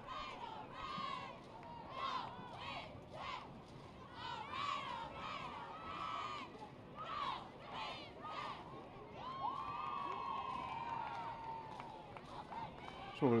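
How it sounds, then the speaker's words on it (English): A crowd packs the stands at a high school football playoff game between Keefe Tech and Marian. It makes a steady, moderately loud roar of shouting and cheering that swells in waves, with voices mixed through it. "there's a pretty good crowd here for this one"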